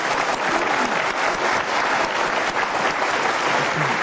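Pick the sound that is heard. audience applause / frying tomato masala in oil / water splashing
audience applause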